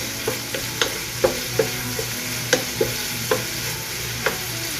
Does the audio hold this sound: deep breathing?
no